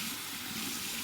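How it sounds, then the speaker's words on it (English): Warm water runs steadily from a tap into a sink, a constant close hiss and splash with no pauses. "I'm going to actually put some warm water in the sink"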